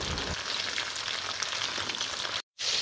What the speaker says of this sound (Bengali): তো দেখো ভাজছি এইভাবে উল্টে পাল্টে